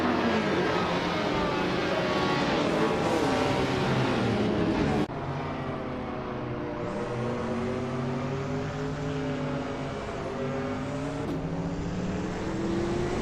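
Race cars roar through a race in a continuous, loud engine drone with shifting pitch as cars accelerate and pass, a sudden change in the mix midway, and no pause in the noise.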